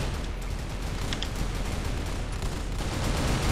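Gunfire in the online shooter CrossFire, fired from a basic weapon as a continuous dense roar of rapid shots, loud and steady with no talking.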